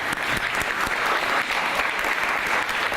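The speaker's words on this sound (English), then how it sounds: "Our pastor is here. Let's give him a round of applause." A church crowd at Allen Temple in Oakland applauds their arriving pastor, a loud, thick wash of clapping that holds steady from start to finish.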